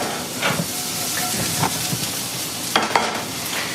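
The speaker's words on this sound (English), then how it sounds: "with the skillet, you can just kind of throw in the mushroom stems, a little bit of garlic" Mushroom stems and garlic sautéing in a skillet, a soft continuous sizzle and steamy hiss with a few scraping stirs and taps of a utensil, close and moderately loud, no talking.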